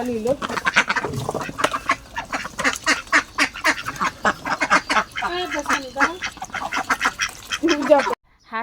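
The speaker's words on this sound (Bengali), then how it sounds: "হাঁস" A flock of ducks quacks loudly and continuously in a dense, overlapping chorus of rapid calls close by, with a short break in the noise near the end.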